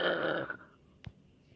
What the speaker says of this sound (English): That was like a gurgle burp